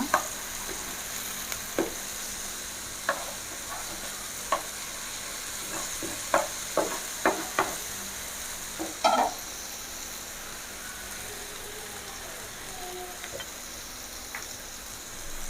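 Slices of elephant yam fry in a hot pan with a continuous sizzling hiss, while a utensil taps and scrapes in short, uneven bursts as the pieces are turned.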